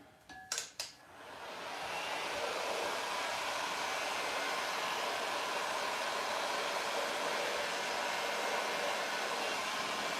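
A heat gun switches on with a couple of clicks and then blows hot air in a loud, steady, continuous rushing hiss, close and unbroken.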